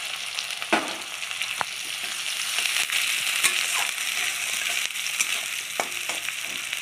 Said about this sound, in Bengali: যে পেঁয়াজটা দিয়ে দিচ্ছে কড়াইয়ে